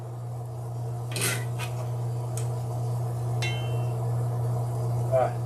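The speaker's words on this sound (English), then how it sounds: "I'm going to take some of my pork and eggplant and put it in the bowl there" Pork and eggplant is served into a bowl for a spicy pork rice bowl, giving a few clinks of utensil against dish and soft scraping over a steady low hum, close and moderately quiet.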